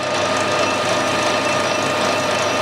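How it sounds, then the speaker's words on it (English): A metal lathe turns slowly while parting off a part, giving a steady, loud mechanical whir and grinding hum close by, continuous and without talk. "I've slowed the lathe down a fair bit"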